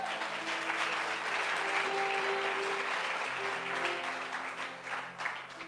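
A church audience claps for Jesus in sustained, dense, fairly close applause that keeps an even level for the whole stretch and tapers slightly at the end.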